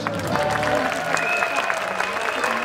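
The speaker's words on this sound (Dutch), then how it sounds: "Je maakt een buiging en je krijgt heel hard applaus." An audience applauding after a bow at a fairy-tale show in the Efteling's Sprookjesbos, with a crowd clapping steadily under overlapping voices and speech.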